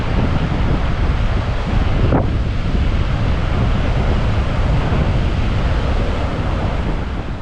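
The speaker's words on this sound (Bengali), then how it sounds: "এই জায়গায় দাঁড়িয়ে দাঁড়িয়ে সমুদ্রের গর্জন শুনতে বেশ ভালো লাগতেছে।" Loud, steady surf roar and gusting wind on the Shah Porir Dwip seashore, heavy wind buffeting throughout and no talking.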